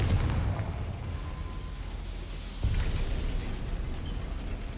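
Confringo spell blast in Hogwarts Legacy, a rumbling, fiery explosion with a sustained low roar and a second sharper burst partway through, loud and close.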